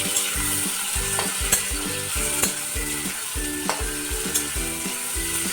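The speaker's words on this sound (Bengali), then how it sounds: "এটা ভাজা ভাজা হয়ে গেছিলো, এখন দিয়ে দেবো এই টমেটো" Chopped tomato hits fried loitta fish in a pan, a loud steady sizzle broken by regular rhythmic scrapes and knocks of a spoon stirring, close up and with no voices.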